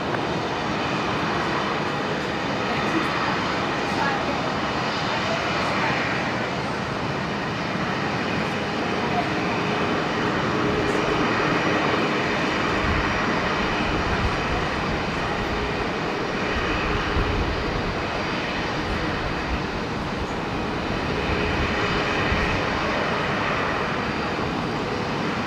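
Two Virgin Boeing 737 jets taxi toward runway 01 right at Brisbane Airport at twilight, producing a steady, continuous engine roar and hum that stays level for the whole stretch, heard from a distance.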